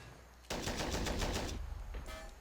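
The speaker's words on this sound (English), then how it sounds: "I don't know how this guy's shooting this from the hip." Rapid automatic gunfire from a video game weapon rattles in a dense, continuous burst of close, loud shots lasting about two seconds, with a second short burst at the end.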